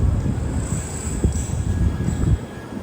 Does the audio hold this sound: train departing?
yes